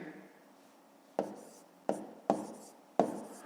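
Pen on paper during a fifth-grade long-division maths exercise: a soft scratchy stroke, then four sharp taps or strokes at irregular intervals, close and clear, with no one speaking.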